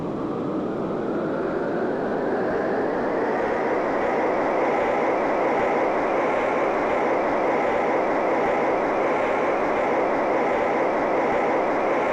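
A car engine in the Car Mechanic Simulator 2021 game revs hard on a dyno, a loud, steady roar that climbs slowly in pitch and holds at full throttle throughout.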